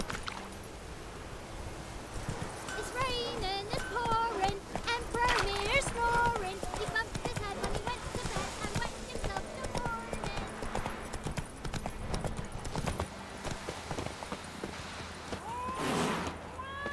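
In The Witcher 3, the horse Roach trots with a rhythmic, close clip-clop of hooves that runs throughout. Voices talk over the hoofbeats.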